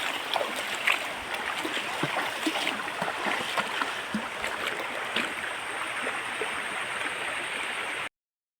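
Steady rushing of a river running high after the year's first rains, a continuous broad hiss with small splashes, moderately loud and constant until it cuts off.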